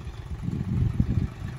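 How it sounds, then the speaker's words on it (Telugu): A John Deere 5042D tractor in the 44 hp class, with a three-cylinder engine and a Bosch pump, idles nearby. It gives a low, steady, slightly pulsing rumble with no other sounds. "ఈ యొక్క ఇంజన్ సౌండ్,"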